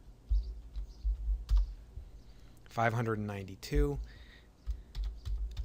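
Scattered keystrokes on a computer keyboard as a spreadsheet formula is typed, close clicks in short bursts around a brief spoken phrase.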